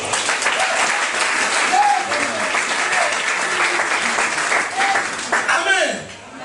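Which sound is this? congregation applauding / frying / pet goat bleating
congregation applauding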